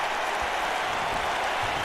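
A wrestling crowd at a live N.E.W. Brawl show cheers together in a steady, dense roar of voices and clapping that fills the space without a break.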